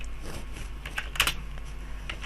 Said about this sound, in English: I'm just going to type Aurora